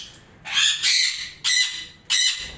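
A sun conure parrot in a cage gives four loud, harsh squawks in quick succession, each short burst separated by brief quiet gaps, with no voices present.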